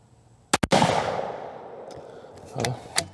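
A 264 Win Mag rifle fires outdoors, with sharp loud reports and a long rumbling echo rolling off after the first, followed by a couple of smaller bangs and clatter.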